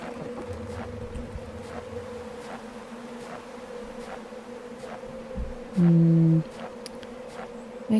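Cicadas buzzing in a dark outdoor scene of the game Darkness Within 2, a steady insect drone running throughout with a brief louder tone near the end, no voices.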